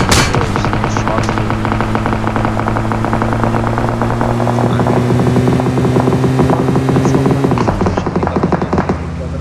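Loud rapid gunfire crackles almost without pause in the mobile battle-royale game PUBG Mobile, over a steady droning engine hum that shifts pitch near the end.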